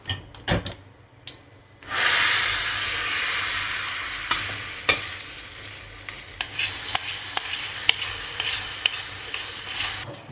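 Urad dal tempering for coriander chutney sizzling loudly in hot oil after a few brief knocks, a dense continuous crackle with sharp pops and stirring scrapes running several seconds.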